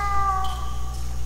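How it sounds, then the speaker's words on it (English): A cat meows in the horror adventure game The Last Door, a drawn-out tonal cry with a higher second call, set against a steady low droning game ambience, no talking. "Oh, it's down here, the kitty cat."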